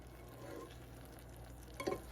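Ground beef and onion fry in a pan while being stirred, giving a faint steady sizzle with a soft scrape of the spoon near the end, quiet and close, no talk.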